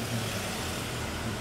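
A Mercedes drives past on a street in Phuket, a steady engine and road hum holding near and fairly loud through the whole moment, with no voices.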